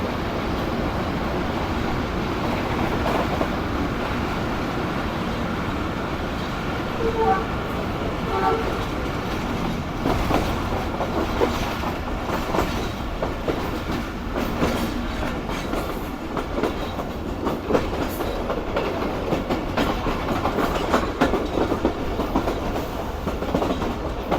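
Riding behind the locomotive of the Shalimar Express between Rohri and beyond, a steady rumble of rolling railcars with clickety-clack and brake noise shifts as the train slows and then picks up speed, heard continuously from on board.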